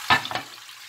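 Chicken drops skin-side down into a hot pan with a short sizzling burst and a second smaller hiss, followed by quieter frying.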